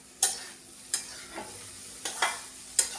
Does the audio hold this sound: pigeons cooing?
no